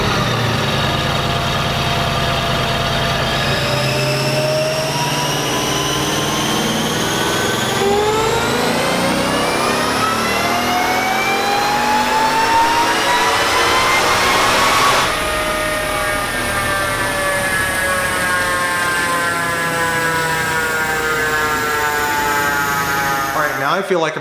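A Whipple-supercharged 2015 Ford Mustang roars on a dyno, the engine pitch climbing steadily through the gears in long loud sweeps with supercharger whine, a shift break near midway, then a sustained high-rpm pull.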